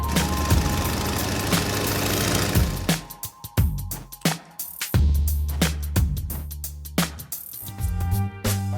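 A small propeller plane's engine runs steadily at idle with a low rumbling drone and sharp clattering knocks, close by with no talking.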